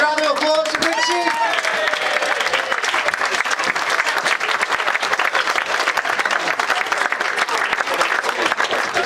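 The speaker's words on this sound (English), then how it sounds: "Big round of applause to Richie" Audience applause at a Tranmere Rovers football club end-of-season awards night, loud, dense clapping from a large crowd filling the room, with a voice briefly heard at the start.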